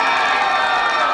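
A crowd claps and cheers at a gathering, a dense, loud, continuous burst of applause mixed with shouting voices.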